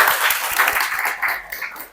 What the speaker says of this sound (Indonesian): Mantap, tepuk tangan lu.